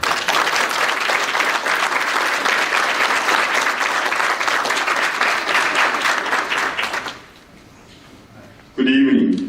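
An indoor audience at an evening charity gala gives steady, sustained applause welcoming a consul general. The clapping is loud and dense for about seven seconds, then dies away into quiet before a speaker begins talking.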